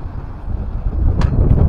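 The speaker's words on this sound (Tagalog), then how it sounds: "malakas yung hangin sa aming lugar" Strong seaside wind buffeting the microphone near small boats, a loud low rumbling roar with gusts swelling toward the end and a brief rustle partway through.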